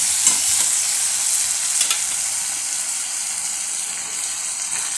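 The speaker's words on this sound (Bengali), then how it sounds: "আমার টমাটোটা হাফ ভাজা হয়েছে" Tomato frying in a pan for a homemade deshi-style dumur (fig) curry gives a steady close sizzle with hissing across the whole clip and a few faint stirring scrapes, with no one talking.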